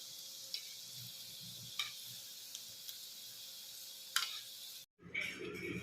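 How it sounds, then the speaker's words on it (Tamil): Pepper vada batter for Tirumala prasadam-style milagu vadai dropped into hot oil, giving a steady close sizzle and fry with occasional soft clicks, then a brief gap before louder bubbling resumes. "எண்ணெயில் இந்த மாதிரி போட்டு பொரிச்சு எடுத்துக்கலாம்"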